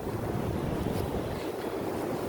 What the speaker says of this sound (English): we got a big gust of wind